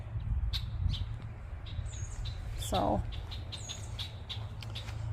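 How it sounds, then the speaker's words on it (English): Small garden birds give a few faint, scattered chirps over a quiet outdoor background with a low hum, and one brief word is spoken. "the birds are just chirping at me"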